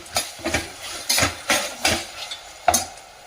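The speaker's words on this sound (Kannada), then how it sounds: "ಈರುಳ್ಳಿ, ಒಂದು ಬಣ್ಣ ಬರೆಯುವವರೆಗೂ ಸ್ವಲ್ಪ ಫ್ರೈ ಮಾಡೋಣ" Onions frying in a pan as they are stirred, with a soft sizzle under repeated scraping and clinking spoon strokes in an irregular rhythm.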